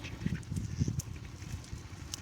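Ducks on a farm pond, a group being let into the water, giving a run of low nasal quacks clustered near the start and fading to softer calls over faint background noise.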